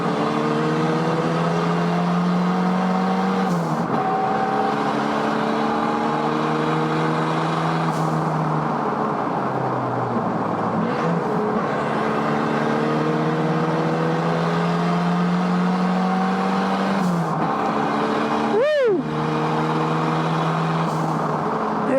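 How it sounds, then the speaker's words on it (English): Exocet tube-frame kit car built from a Mazda Miata racing, its engine droning loudly and steadily with repeated rising revs and gear changes, a brief sharp whine near the end. "That was an Exo set, which is a little tube frame kit car made out of a Mazda Miata."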